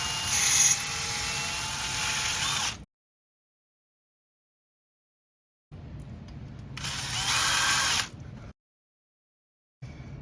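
An aluminum part for a 1/24 scale F1 model is drilled in two separate bursts: a steady high whine of about three seconds, a pause, then a shorter run, close up and alone.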